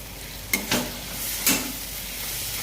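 Taro stolons frying in a pan and being stirred, with a steady low sizzle and three short spatula scrapes and knocks spaced about a second apart, close and moderately loud, no voices.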